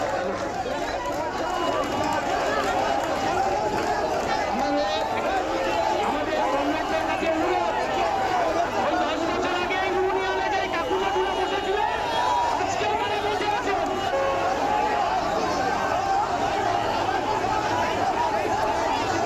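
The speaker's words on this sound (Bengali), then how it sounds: "বচসা হাতাহাতিতে জড়িয়ে পড়ে দুদল, একে অপরের বিরুদ্ধে চলে স্লোগান পাল্টা স্লোগান" Rival SFI and TMCP student groups clash at Barasat College, with a dense, continuous crowd of shouting, chanting voices and scuffling at a steady loud level throughout.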